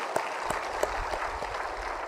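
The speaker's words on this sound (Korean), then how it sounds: "하나님께 영광의 박수를 드립니다." A church congregation claps together at a Sunday service, a moderate, steady patter of hands with a few sharper claps standing out.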